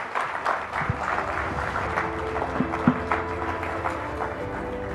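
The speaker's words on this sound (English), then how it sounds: "Ladies and gentlemen, a big round of applause for Secretary Kerry." A conference audience at a leaders' forum session applauds a speaker, a steady, dense wash of clapping that carries on throughout at moderate volume, with a few sharper individual claps standing out.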